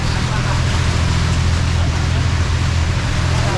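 Choppy water rushes around a moving boat on the Amazon river near Manaus, a dense continuous wash of water and wind over a steady low engine drone, loud and close throughout.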